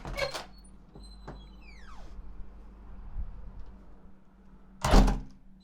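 A door opens and closes with a creak and a solid thunk near the end, over a steady low hum and faint background tone.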